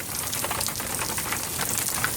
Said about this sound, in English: Yeah, now it's just rain.